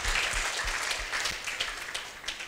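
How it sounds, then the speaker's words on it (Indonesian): Audience applause at an Indonesian talk, a steady dense crowd clapping that fills the whole stretch and stays loud throughout. "Tepuk tangan."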